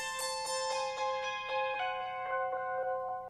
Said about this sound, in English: It just is closing the filter as we go into the next section.